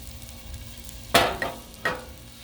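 Sausages frying on a Blackstone flat-top griddle give a low steady sizzle, broken by a few sharp scraping bursts as a spatula flips them.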